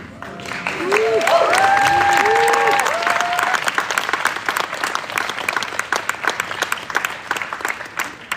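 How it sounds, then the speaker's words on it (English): Student crowd at a sit-in for Palestine at Aalto University bursts into applause, with whoops and cheering voices rising early, then thinning into scattered individual claps toward the end. "One round of applause to"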